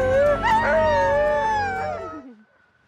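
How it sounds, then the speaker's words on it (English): Several sled dogs on an Arctic winter expedition howl and whimper together, a loud sustained chorus of wavering cries that fades out near the end, leaving near silence. "The first time you meet a dog is magical."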